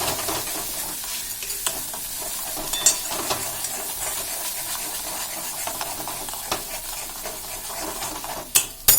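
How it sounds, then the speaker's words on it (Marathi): Spice masala with coriander powder and a pinch of turmeric being stirred in hot oil for paneer bhaji, a steady close sizzle with scraping spoon strokes against the pan and a couple of louder knocks at the end. "ह्याला तेल सुटत नाही तोपर्यंत हे थोडं मिक्स करत घ्यायचं आहे"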